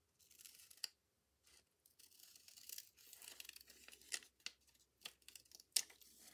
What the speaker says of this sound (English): let's cut this. Just a rough fussy cut.